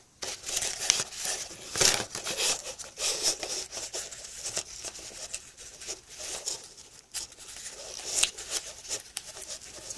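Origami paper being pulled and crinkled while folding layers of a paper cactus, giving soft bursts of rustling and crackling close to the microphone, with no talk.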